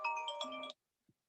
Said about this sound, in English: I got thrown off by my phone there